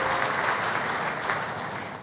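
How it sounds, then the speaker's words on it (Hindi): An audience at a business association gathering applauds steadily, a dense, even clapping that fills the whole stretch without talk. "हम खुद के लिए हम सब तालियां बजाएं"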